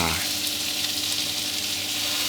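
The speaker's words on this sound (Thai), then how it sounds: "เราใส่น้ำปลาลงไปโดนกับกระทะร้อนเนี่ยน้ำปลาเขาจะออกกลิ่นหอมดีขึ้นมาด้วยครับ" Loud, steady sizzling fills the whole stretch, a dense hiss as fish sauce hits a very hot wok.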